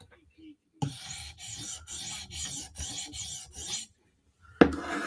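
Steel Spyderco Slysz Bowie knife blade being honed on a sharpening stone, about eight steady, even rasping strokes in a close rhythmic series, then a pause and a fresh scrape at the end, with no talking.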